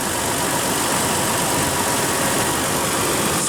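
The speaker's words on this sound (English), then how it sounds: "Under the hood is a 4-liter V6 producing 270 horsepower and 278 pound-feet of torque." A 2014 Toyota 4Runner with a 4.0 L V6 idles with a close, steady, even engine rumble and hiss, unbroken from start to finish.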